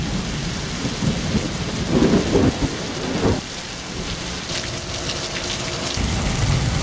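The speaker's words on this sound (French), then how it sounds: "il y a une énorme tempête à Cuba là" A heavy nighttime thunderstorm in Cuba pours down rain. The downpour is loud and continuous, and deep thunder rumbles and cracks through it, heaviest in the first half.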